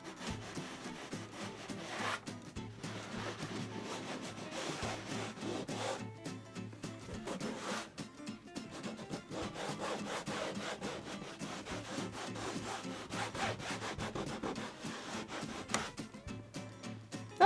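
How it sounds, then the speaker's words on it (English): Chalk is scrubbed off a toned canvas with quick, hard back-and-forth rubbing strokes, a steady scratchy friction that continues with brief pauses, close and fairly quiet, with no talk. "Normally I'm not scrubbing that hard to get the chalk off."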